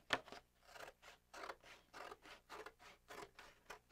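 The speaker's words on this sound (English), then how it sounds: "So she took her scissors" Scissors snip through paper in a quiet room, a steady run of about a dozen rhythmic, close crisp cuts.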